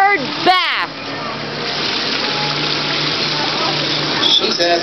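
Water from a park fountain splashes and hisses in a steady, close wash, with a voice speaking briefly near the start.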